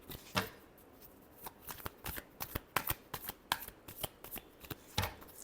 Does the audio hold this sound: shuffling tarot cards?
yes